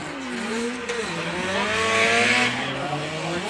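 A small drift car at Mondello Park racetrack revs and accelerates, its engine note climbing and wavering through gear changes, fairly close and loud with no talk over it.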